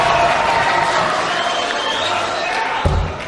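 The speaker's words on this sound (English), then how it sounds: "The crowd is rocking in anticipation." Darts crowd at the Grand Slam of Darts rumbling and cheering steadily in anticipation of a nine-dart finish attempt, a dense continuous roar of many voices with a brief thump near the end.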